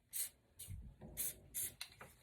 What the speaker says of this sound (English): now I'm going to spray the ends real quick